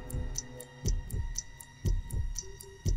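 A heartbeat sound effect in the TV series Gotham throbs in steady, deep double pulses about once a second, close and low over a faint hum, with no talking.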